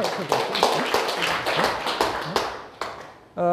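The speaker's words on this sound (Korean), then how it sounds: "동의하시면 박수 한번. 동의 박수 한번." An audience at a lecture on reading the Analects claps together in agreement, a brisk run of close, sharp handclaps lasting a few seconds under a speaking voice.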